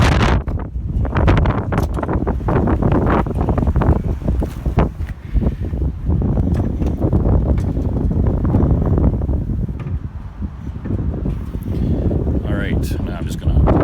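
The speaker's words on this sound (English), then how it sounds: "Holy cow, it's windy out here." Strong outdoor wind buffeting the microphone near a 1986 Volkswagen Cabriolet, continuous loud low rumbling gusts that rise and fall, with someone talking through it.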